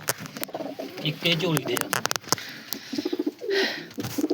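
Pigeons coo in low, throaty bursts close by, mixed with wing flutters and clicks while someone talks over them.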